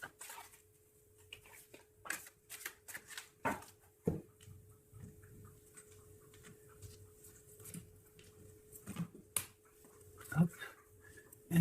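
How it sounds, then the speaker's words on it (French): A tarot deck cut and shuffled by hand: scattered soft card slaps and riffles, fairly quiet, with a faint steady hum and occasional low murmurs of voice between them. "Je vais essayer de faire une coupe déjà."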